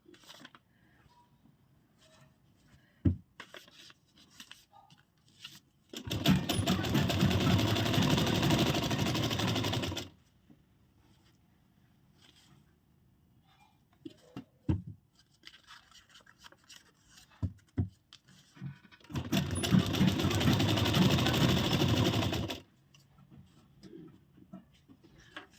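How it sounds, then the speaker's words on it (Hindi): An electric sewing machine stitches a broad-neck blouse in two steady, loud whirring runs of about four seconds each, separated by quiet handling of fabric and paper, with soft clicks in between. "ये देखिए कितनी परफेक्ट सिलाई आ रही है।"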